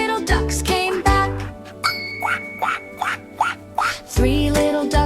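Sung duck quacks from a children's nursery rhyme about little ducks: a voice imitates quacking in a quick run of five calls over bright musical accompaniment with chiming tones.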